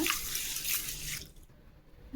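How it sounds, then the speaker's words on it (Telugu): Water is poured into a steel vessel over moong dal set to soak, a brief rushing splash that stops abruptly after about a second, followed by faint dripping. "దీంట్లోనే నిండా నీళ్ళు వేసుకోవాలి."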